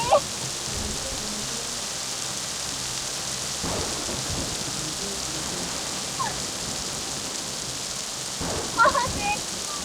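Heavy rain pours down steadily in a forest during a thunderstorm, a dense continuous hiss broken by a few low, distant thunder rumbles.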